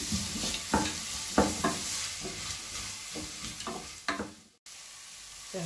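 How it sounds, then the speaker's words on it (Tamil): Onion, ginger and garlic sauté in a pan for egg biryani, a steady close sizzle broken by repeated scraping stirs of a spatula, about one every half second to second, with a brief cutoff near the end. "வெங்காயம் இஞ்சி பூண்டு எல்லாமே வந்து நல்லா வதங்கிருச்சு."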